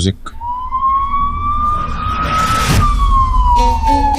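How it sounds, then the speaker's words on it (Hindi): A vehicle siren in a TV drama scene wails in a long rising then falling tone, loud and near, with a whoosh of passing noise midway and some voices underneath. "और जब वो सायरन बजता है गाड़ी का"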